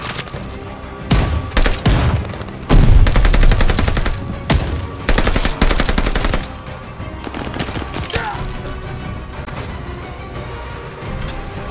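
Heavy gunfire in Call of Duty: Vanguard, loud rapid machine-gun bursts and single shots crackling over a dense battle din, with repeated volleys across the whole stretch.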